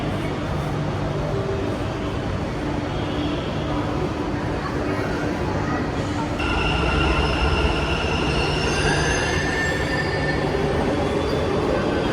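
A Bangalore metro train running on its track, a loud continuous rumble with high squealing wheel tones rising near the end, heard from close by.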